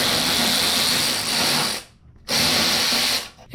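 Power tool spinning a bolt off a Nissan 370Z during headlight removal, a loud buzzing whir in two bursts separated by a short pause.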